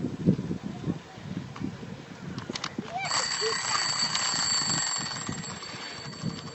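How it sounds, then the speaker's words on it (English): Bicycle bell on the left handlebar rung on a paved canal towpath trail, several bright metallic rings over steady riding and wind noise, with faint voices in the background. "I don't think they were impressed with my bell."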